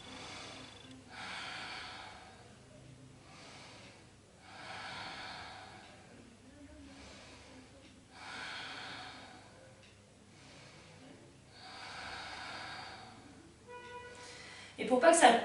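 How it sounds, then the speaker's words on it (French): Slow, deep breathing exercise: long drawn inhalations alternating with full exhalations in a steady rhythm of about five cycles, close and fairly soft, ending in a sharper burst of breath. "Faites plusieurs fois cette respiration profonde."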